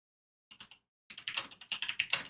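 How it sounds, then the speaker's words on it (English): Someone types on a computer keyboard up close. A short burst of a few keystrokes is followed by a pause, then a steadier run of rapid clicking. "We're typing here."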